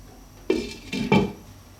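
A metal lid lands on a cooking pot of simmering chicken tomato pasta with two sharp clanks, close and loud against a quiet kitchen.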